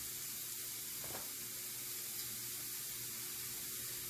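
Mushrooms frying over high heat in a pan sizzle in a steady, close hiss that runs throughout, with a brief stir or clatter near the start.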